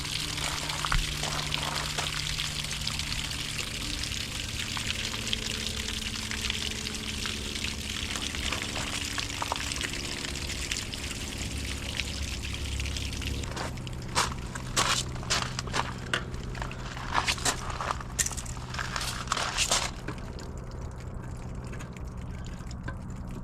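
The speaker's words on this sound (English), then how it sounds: "Oh, I'll keep that open so it can drain." Water drains from a hot water tank with its pressure relief valve held open, a long steady trickling and gurgling flow, then a stretch of sharper splashes and crackles toward the end, without speech.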